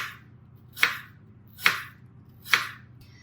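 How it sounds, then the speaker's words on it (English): A knife slices through apples on a cutting board in three evenly spaced, crisp cuts, each a short crunchy thunk against the board, close up in an otherwise quiet room. "So I'm just cutting it now, and just cut it into slices."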